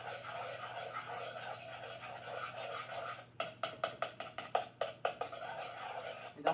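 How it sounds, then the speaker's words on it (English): Whisk scraping and stirring a flour and butter roux in a pan, a steady rasping scrape that turns into quick rhythmic strokes, about a dozen close, even beats. "you have to keep constantly stirring the flour because you don't want your flour to turn brown"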